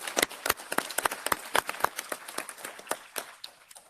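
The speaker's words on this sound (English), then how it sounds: "So a salve of applause for them, because without them this would not be possible." Audience applause at an indoor conference event on food system strategy, heard as crisp, close, scattered handclaps from a small group, gradually thinning out over a few seconds with no talk.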